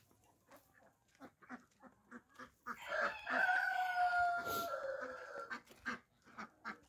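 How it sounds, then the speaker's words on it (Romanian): A Brahma rooster in a garden gives a long crow that rises through the middle of the stretch, somewhat distant and faint, amid scattered clucks and calls from other fowl and a possible dog. "Uitați cocoșul de Brahma"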